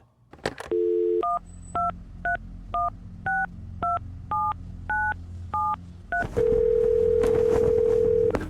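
A jail telephone call from a correctional facility: a loud dial tone, then a quick run of about ten touch-tone keypad beeps, followed by a long steady ringback tone, close and clear.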